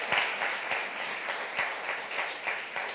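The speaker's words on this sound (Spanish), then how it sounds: "Dele un aplauso a Dios, por favor" A church congregation claps steadily in a sustained burst of applause, moderately distant and fairly even in intensity, with no voices standing out.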